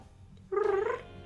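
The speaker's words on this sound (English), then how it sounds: "If you hear strange noises, it's just my kitty cat." A pet cat gives a short, breathy purring rumble lasting about half a second, close and fairly clear against a quiet background.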